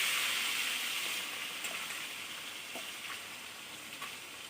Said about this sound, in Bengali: এবার মাছগুলো দিয়ে দেবো। তেল গরম হয়ে গেছে।